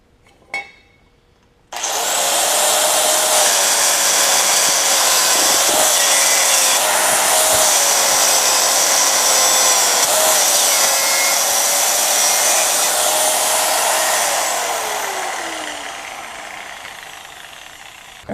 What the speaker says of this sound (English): I got all the paint ground off